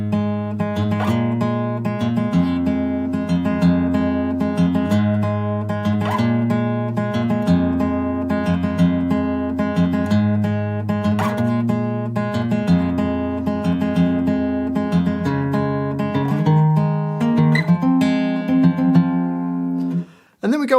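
A guitar plays the verse of a song: a steady, repeating pattern of plucked chords and single notes, near and clear, for about twenty seconds with no voice over it.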